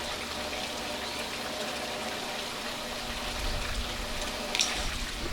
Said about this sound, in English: Whoops, there we go, I heard water.